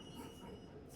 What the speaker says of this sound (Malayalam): ടെർമിനി എന്ന് പറയുന്ന ആ ഒരു ഭാഗത്ത് നിന്നും പോകുന്ന ട്രാം